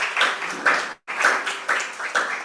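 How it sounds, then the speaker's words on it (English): An audience at an African BioGenome Project scientific event applauds a young scientist, with a dense burst of clapping that briefly breaks off and then resumes, steady and fairly close. "A round of applause for her."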